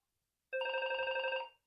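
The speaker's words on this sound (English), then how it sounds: "And there's my phone going." A telephone rings with a steady electronic trill in a painting studio, starting abruptly and holding for about a second before fading, loud and close with no talk over it.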